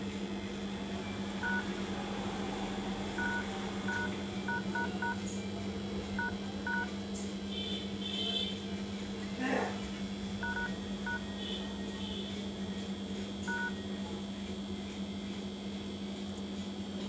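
Keypad dialing tones on a Redmi 8A phone: short paired beeps tapped in irregular bursts over a steady electrical hum, with a few brief clicks and faint background noise.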